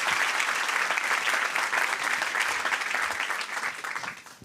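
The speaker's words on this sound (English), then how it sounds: "Applause, perhaps, for that one" Applause fills a science award ceremony hall, a steady dense wash of many hands clapping that holds evenly before tapering off at the end.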